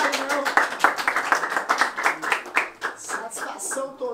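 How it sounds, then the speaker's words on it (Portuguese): Rhythmic clapping from a crowd at a Brazilian freestyle rap battle semifinal, sharp hand claps in a quick repeated beat that loosens toward the end, with voices and crowd noise mixed in. "Palmas aí, família"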